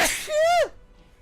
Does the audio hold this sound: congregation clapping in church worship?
no